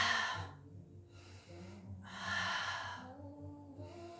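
Slow, audible breaths during a mat pilates class, each long exhale rising and fading in a steady rhythm, close and soft with no talking.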